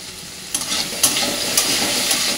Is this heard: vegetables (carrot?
yes